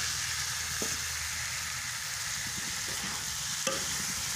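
Boiled eggs and potatoes sautéed with spices in a pan on a clay stove hiss in a steady, close sizzle, with occasional soft scrapes and knocks from stirring and no voices.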